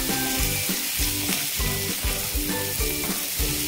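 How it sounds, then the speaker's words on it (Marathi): Okra sautéing over a high flame in a pan gives a loud, steady sizzle and frying hiss, with regular scraping and stirring strokes repeating about every half second throughout. "हाय फ्लेमवरच आपण जवळपास 4 ते 5 मिनिट ही भेंडी मस्त परतून"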